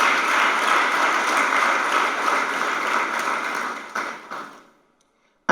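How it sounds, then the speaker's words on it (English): Applause from a summit audience fills the clip, a steady broad wash of clapping that swells and then fades out toward the end, with a brief sharp sound at the very close. "A round of applause for Dangote refinery."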